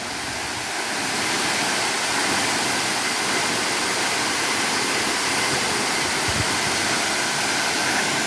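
Roaring water of Hazachhara waterfall in Baghaichhari, Rangamati, a steady, loud broadband rush filling the whole clip without pause, no voices heard over it.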